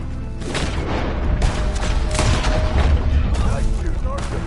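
Gunfire in Red Dead Redemption 2 during a shootout: loud booming shots in irregular bursts over a steady rumble, with voices talking through the clip.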